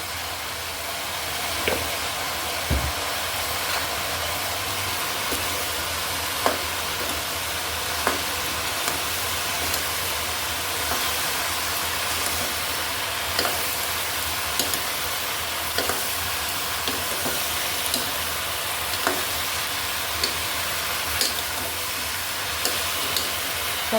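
Chopped bottle gourd with turmeric, coriander leaves and salt is stirred and mixed in a hot pan, a continuous close sizzle broken by regular scraping strokes of the spatula.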